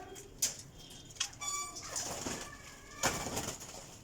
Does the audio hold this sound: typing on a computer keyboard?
no